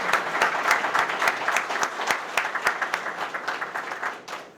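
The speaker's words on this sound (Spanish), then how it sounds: "le demos un aplauso, ¿verdad?" Audience applause at a large political event in the Dominican Republic, steady dense clapping from a crowd throughout, with individual claps standing out near the mic before it thins toward the end.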